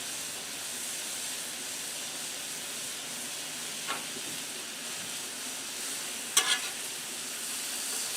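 Vegetables fry on a Blackstone griddle with a constant, even sizzle, broken by two brief metallic clinks of a utensil partway through, and no one speaks.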